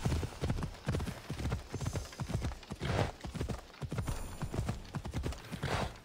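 Horse hooves clip-clop at a steady galloping rhythm in Assassin's Creed Odyssey, close and continuous, the beats thudding evenly throughout.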